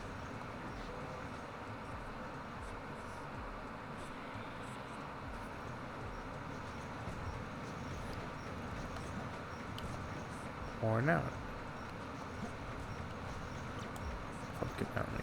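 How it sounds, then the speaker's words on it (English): A train circling a mountain in the video game Sonic Adventure 2 gives a steady rumbling roll that runs the whole time, with a brief louder burst partway through and game ambience mixed in. "Oh right, there is that train that circles it."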